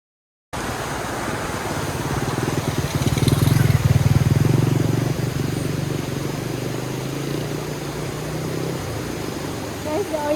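A motorcycle engine runs steadily with a low rumble, close and loud throughout, swelling slightly in the middle, on a countryside trip to a bridge at Bubunawan in Bukidnon.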